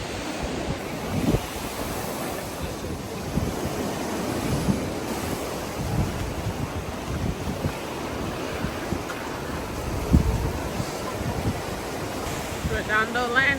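Ocean surf rolls in beside a beach boardwalk at Redondo Landing, a soft, continuous wash of waves mixed with gusts of wind buffeting the microphone and faint background voices.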